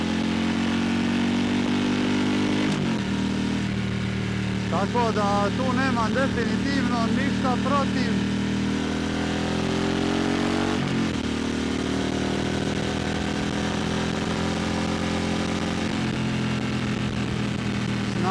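Harley-Davidson Pan America 2022 motorcycle, a 150-horsepower engine, idling with a steady low rumble beneath someone talking throughout, with a brief rev near the middle.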